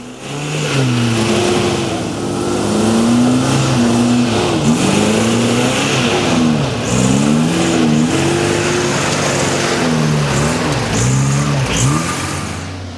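A 4WD vehicle's engine revs hard while climbing a muddy track, its pitch rising and dipping repeatedly as the throttle is worked, loud and close.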